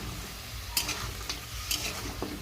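Tomatoes go into a karahi of frying chicken, giving a steady close sizzle with a few brief sharp crackles and stirring scrapes, with no voice over it.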